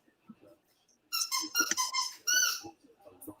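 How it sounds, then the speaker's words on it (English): Squeaky stress ball or dog toy squeezed in a run of sharp, high squeaks over about one and a half seconds, followed by a longer squeal, fairly close and alone. "Is that your stress ball, Katie, that you're squeezing?"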